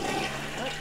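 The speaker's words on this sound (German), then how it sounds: "Und die Toilette benutzen kurz." A toilet flushes in The Sims 2, a short gurgling rush of draining water heard alone and fairly close.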